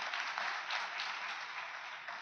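A crowd at a political speech rally in Kaithal applauds the women in attendance, a steady, sustained wash of clapping without pauses, moderately distant.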